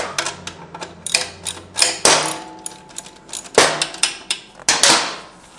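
A socket wrench ratchets and clicks in sharp, irregular bursts while loosening nuts near the exhaust of a 2019 Aprilia V4 Tuono 1100 Factory motorcycle, close and loud with no talk.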